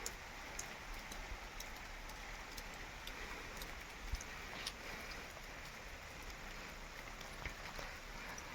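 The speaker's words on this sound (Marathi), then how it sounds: "पण हो का पाऊस चालू आहे असं जरा." Light rain falling on a sugarcane field, a faint, even patter with occasional soft drops, steady throughout and with no voices.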